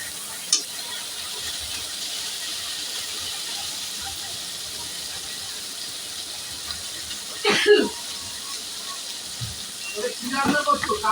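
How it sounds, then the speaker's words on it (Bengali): Spice masala with cumin powder sautés in oil for a koi fish curry, making a steady hiss and sizzle with a few louder bursts, under occasional talk. "দিয়ে ভালো করে মশলাটা কষাবো যতক্ষণ না তেল ছেড়ে আসে।"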